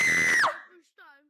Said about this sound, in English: Let's see if I can still scream.